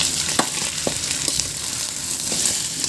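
Pork adobo with crushed black pepper is stirred in a sizzling pan, a dense loud frying hiss punctuated by a few scraping strokes of the spatula.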